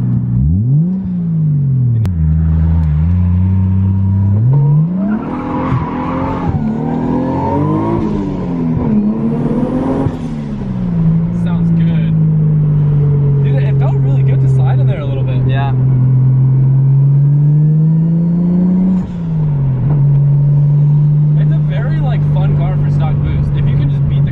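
A car with a 1JZ engine drives by close and loud, its steady drone rising and dipping through several revs and gear changes, with people talking over it.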